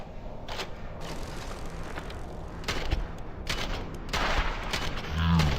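Gunfire in the Starfield video game, New Game Plus 15, sounds as dense overlapping bursts of shots, loud and close. The rattling volleys repeat across the clip, with a sharper cluster near the end.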